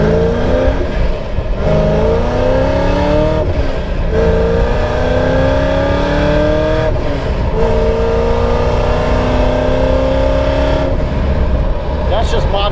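A modified Pontiac GTO accelerates hard, its engine note climbing in loud sweeping pulls that drop sharply at each gear change, several shifts in a row heard close up with a voice talking over it.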